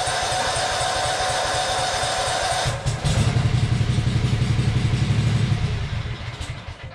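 A Yazoo Kees ZT Max 42-inch commercial zero-turn mower engine runs loud and close, then starts to sputter and stumble from fuel starvation, its rough uneven pulsing weakening toward the end as it begins to die.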